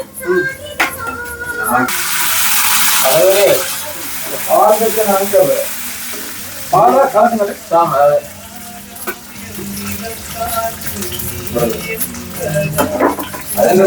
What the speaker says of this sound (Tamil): நாங்க வந்து பருப்புக்கு போடுறதுக்கு தாளிச்சிட்டு இருக்கோம்.